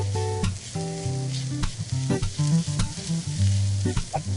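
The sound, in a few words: frying diced onions and garlic in a pan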